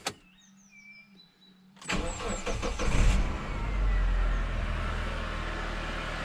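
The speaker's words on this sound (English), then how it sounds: "Last thing, just give the car a quick start." A 2004 Mitsubishi Pinin 1.8 is started after an alternator belt change. A short whirring crank catches into a loud engine roar, then the engine settles into a steady idle with no squeal, and a voice is heard briefly.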